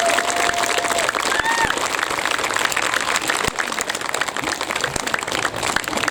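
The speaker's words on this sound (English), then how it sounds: "give them a round of applause for what they did years and years ago." A crowd at a time capsule opening applauds steadily throughout, dense clapping filling the room at a consistent loudness, with a few faint whistles or cheers mixed in.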